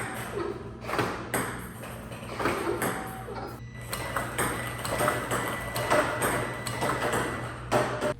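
A PongBot Omni S Pro ping pong robot runs quietly in a garage, its soft repeated ball pings and taps spread steadily over a low, constant background hum, with no voices.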